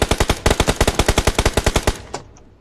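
Rapid automatic gunfire from PUBG Mobile rattles out in a fast, even burst of about twenty loud shots, stopping abruptly with one last faint report and a brief tail.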